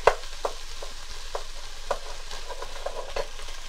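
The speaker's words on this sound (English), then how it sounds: "So I'm going to get that sauteed in there, and we're just going to saute about 5 minutes," Vegetables and garlic sauté in a pot for bean soup, a soft steady sizzle punctuated by about eight distinct scraping stirs of a utensil, close, with no voices.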